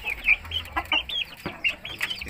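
Chickens in a makeshift backyard coop cluck repeatedly in short bursts at close range, several birds overlapping, with low background rumble and no talking.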